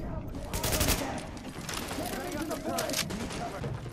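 Automatic gunfire in The Division video game, a dense, loud stream of shots and mechanical clatter running steadily throughout, with someone talking over it.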